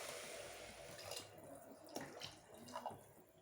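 Four glasses of water pour into a pot of spiced tomato rice, a soft, continuous splashing flow heard faintly and steadily throughout.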